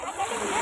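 Water splashes as someone plunges into the sea, a short burst of rushing, churning spray heard close up.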